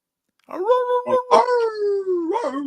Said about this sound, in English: 80-pound husky. Does she sing?